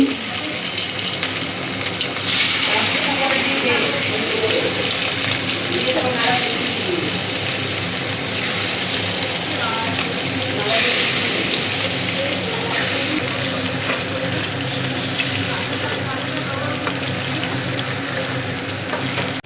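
Fish pieces frying in hot oil in a home kitchen, a steady loud sizzle and crackle that runs throughout with occasional stirring sounds and some voices in the background.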